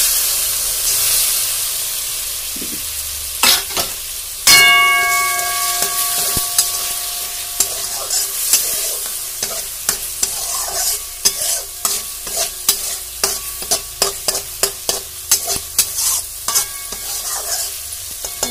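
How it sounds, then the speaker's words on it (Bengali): Spice paste with mustard paste being stirred and fried for a small-fish curry: a steady sizzle carries a run of sharp, rhythmic spatula scrapes against the pan, growing denser toward the end, close and fairly loud with no talking. "মশলাটা ভালো করে কষানো হয়ে গেছে, এখন সরষে বাটাটা দিয়ে দিই।"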